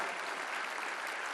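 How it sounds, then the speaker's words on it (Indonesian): An assembly audience claps at the annual MPR session during an Indonesian presidential state address, a dense, steady roar of many hands filling the hall evenly from start to end. "Mari kita tepuk tangan untuk Christina dan semua anak Indonesia"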